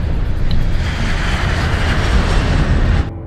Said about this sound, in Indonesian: Pesawat sampai di Korea